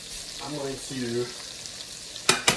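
Eggs frying in a pan on a home stove, a steady soft sizzle and crackle running throughout, with brief louder clatters of a utensil near the end.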